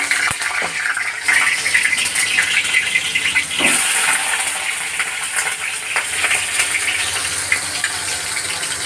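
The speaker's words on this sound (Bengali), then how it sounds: "কলা ভেজে নিচ্ছি" Raw green banana pieces frying in hot oil in a home kitchen, a continuous bright hiss and crackle with a few louder pops, close and steady throughout.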